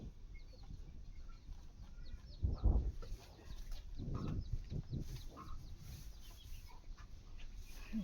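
Chickens and chicks cluck and call softly at a distance in a farmyard with straw bedding, the calls scattered and irregular over a low background.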